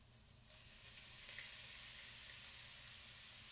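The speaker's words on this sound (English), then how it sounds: "we want to make sure we get a nice sizzle once the shrimp hits the pan" A sudden burst of sizzling as shrimp hit a hot pan, then a steady, close crackling hiss continues.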